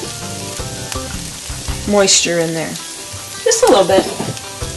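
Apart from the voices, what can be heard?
wild rice and mushrooms sautéing in a pan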